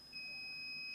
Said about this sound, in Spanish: por eso está ahorita marcando el zumbador